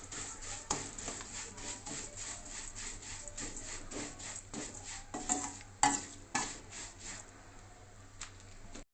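Vermicelli frying in oil in a pan over medium flame, a soft continuous sizzle with rhythmic scraping and rubbing strokes of a spatula, close and quiet, with a few sharper knocks midway.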